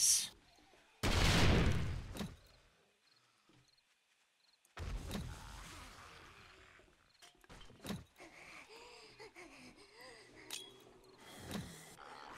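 A gun fires in a horde-night video game, with a dense burst of shots early on and then scattered single cracks and clatter. The shots are fairly loud against quiet stretches, with game sounds in between.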